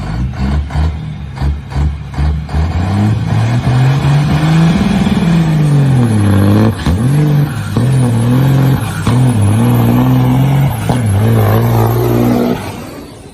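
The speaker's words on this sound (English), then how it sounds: "We got trucks doing wheelies out this bitch." A truck engine revs hard as trucks pull wheelies, loud and close, with deep droning tones that climb and fall through repeated throttle bursts and shifts, sustained for over ten seconds before easing off.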